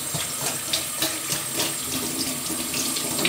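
Tap water running steadily into a kitchen sink while soaked food is rinsed in a sieve, a close, continuous hissing splash with slight shifts in flow as the food is moved.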